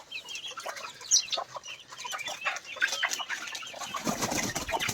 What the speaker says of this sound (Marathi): हा बघा कोंबडा बघा कुठपर्यंत आला